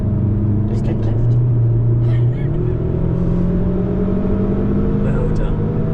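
A car accelerating on the Nürburgring Nordschleife, a steady engine drone whose pitch climbs with a gear change midway, heard from inside the car while a person speaks over it.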